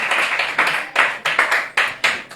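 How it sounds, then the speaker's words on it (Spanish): A church congregation clapping in rhythm for several seconds, sharp steady hand claps repeating at a quick even pace, fairly near and with no talk over them. "Démosle un aplauso al Señor."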